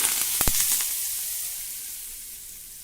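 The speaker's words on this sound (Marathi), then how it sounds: "ही गरम फोडणी आता आपल्याला ह्या डांगरवर घालायची आहे" Hot tempering oil with curry leaves poured onto a pumpkin dish hisses loudly with a burst of sharp crackles at first, then settles into a fading sizzle.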